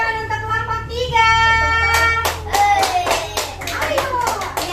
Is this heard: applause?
yes